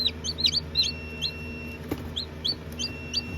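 A very large chicken outdoors gives repeated short high calls and chirps over a steady low background hum, moderately near and fairly quiet.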